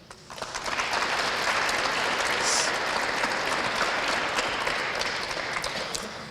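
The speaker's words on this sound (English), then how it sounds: "if we could get another round of applause for Dylan." A school military recognition event at a high school: an audience gives a dense round of applause that swells quickly and holds steady for several seconds before tapering off, with no talking over it.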